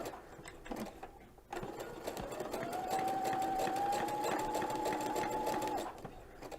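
A sewing machine with a special presser foot sews curves slowly, its rhythmic stitching close and steady for several seconds with a faint motor whine rising underneath, easing off at the end.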